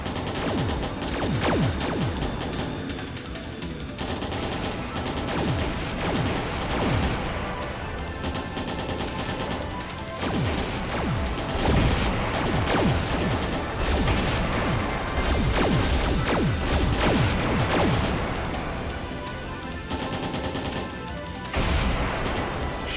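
Rapid gunfire fills a video game firefight as shots bring down incoming missiles, with dense continuous bursts and crashing impacts layered over busy game music throughout.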